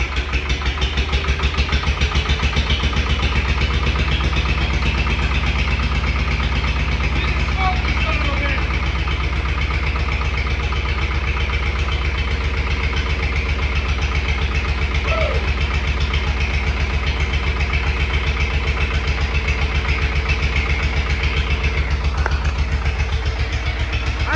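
An International TD9 diesel crawler engine runs at a steady idle after being revived, a loud, close, even rumbling chug throughout with faint incidental noises over it.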